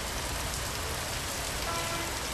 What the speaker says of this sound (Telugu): చోడవరంలో ఓ మోస్తరు వర్షం పడుతోంది